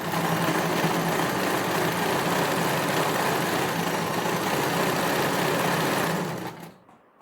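A sewing machine stitches the hem of a kameez shirt, a loud, steady, close whirring that runs unbroken for about six seconds before winding down to silence.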